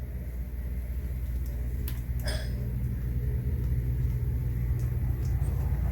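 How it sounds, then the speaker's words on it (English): Outdoor air conditioner compressor running outside a home, a steady low hum and rumble throughout, fairly close, with a faint clink partway and no talk. "I could hear the outside compressor coming on afterward after I set it"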